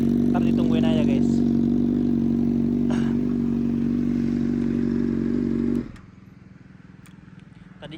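A motorcycle with a small-output exhaust that sounds shrill runs at a steady, loud, buzzing idle close by, then abruptly drops to a much quieter low rumble near the end.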